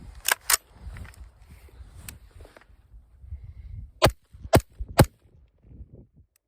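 A rifle fitted with a HUXWRX Flow 556K muzzle device fires sharp, sudden shots: a quick pair near the start, one single shot, then three spaced shots, over quiet outdoor background.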